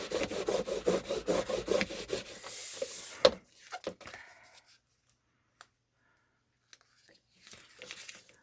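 Rubbing on the back of a vinyl sticker transfer: brisk, rhythmic back-and-forth rubbing strokes, close and fairly loud, end after about three seconds, followed by a few faint taps and a short quiet rustle.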